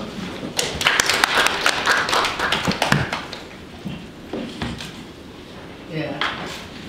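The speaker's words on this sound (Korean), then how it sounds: "큰 박수 부탁드립니다." Applause rises from an audience at a Korean gathering as the elderly speaker is welcomed, a burst of claps that fades after a few seconds, with voices talking around it.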